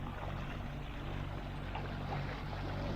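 A diesel boat engine runs hard at full throttle on Lough Erne, a steady broadband roar with rushing water and wind, continuous and close with no talk.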